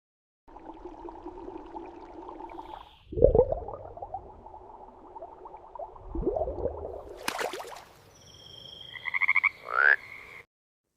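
Frogs croak in close, steady throaty bursts, with deeper pulsing calls and a few sharper chirps overlapping, fairly clear against a quiet background.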